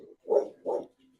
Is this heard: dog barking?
yes